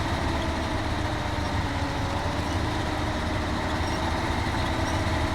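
Truck engine idling in the off-road driving game SnowRunner, a light empty-frame truck with a steady, dense low rumble that runs continuously and fairly loud, with no talking over it.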